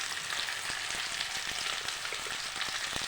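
A spice paste with tomato, cumin powder and turmeric sizzles steadily in a pan with fried potatoes for an egg curry, with faint scraping stirs breaking through the close, continuous hiss and no talking.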